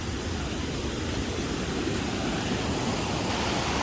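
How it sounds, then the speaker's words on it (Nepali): Rain pours steadily over a jungle trail as a dense, even hiss that stays constant and close, with no voices. "डाइरेक्ट पानी पर्नु थाल्यो, पानी परेको नि है"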